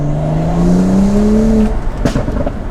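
BMW E82 135i with full bolt-ons, engine revving hard as the pitch climbs steadily for about a second and a half, then a gear change cut and the roar picking up again, loud and close.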